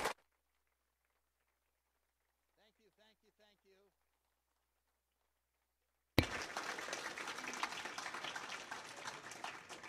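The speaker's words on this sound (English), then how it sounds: "Let's give him another round of applause." A 12 Step workshop audience bursts into applause for a speaker. Near silence and a brief spoken phrase come first, then loud, dense clapping starts abruptly and continues steadily to the end.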